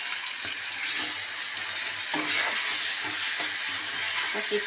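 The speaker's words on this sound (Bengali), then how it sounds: "তার জন্য এই মশলাটা আগে কষিয়ে নিই। পেঁয়াজ, আদা, রসুন, টমেটো, লঙ্কা" An onion, ginger, garlic, tomato and chilli masala frying in a pan gives a steady moderate sizzle, broken by occasional scrapes and taps of a spoon as it is stirred, without any voices.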